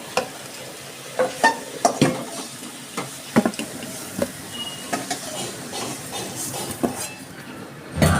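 A dried red chili, cardamom and cinnamon sizzle in hot oil in a pan, a steady frying hiss broken by repeated sharp clinks and scrapes of a spoon against the pan, close and fairly loud.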